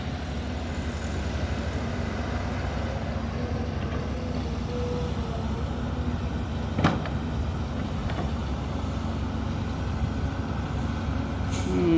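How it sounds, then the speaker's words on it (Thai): An Isuzu Deca truck backs up at a flooded earthworks site where soil is being dumped to shore up a pond bank, its steady low diesel rumble running close and even, with a brief hiss around the middle. "พี่เอามาดูอิสุเดก้าครับ ถอยมาแล้ว"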